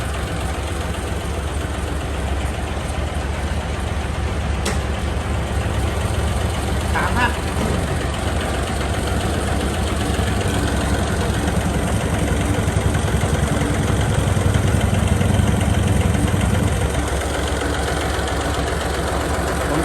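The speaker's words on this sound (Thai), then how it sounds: "เสียงเครื่องมันนิ่มมาก" A 12-wheel S700 truck's engine idles steadily and fairly loud nearby, a continuous low rumble with a few faint knocks, while people talk over it.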